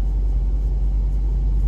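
The V8 engine of a 2019 Ford Mustang GT Premium rumbles at a steady, deep idle, close and continuous with no talking.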